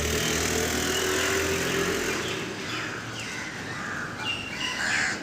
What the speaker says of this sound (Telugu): మా కాకి గాడు చూడండి